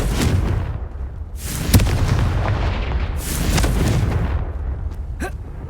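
Confringo spell in Hogwarts Legacy, fiery blasts erupting with loud booming explosions and sharp cracks over a dense battle backdrop.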